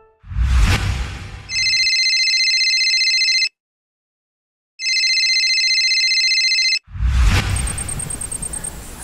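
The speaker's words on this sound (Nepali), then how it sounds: "कसको फोन हो उठाउ न" A mobile phone rings loudly in two long electronic bursts separated by a short silence, with rustling movement sounds before and after the ringing, in a Nepali comedy telefilm scene.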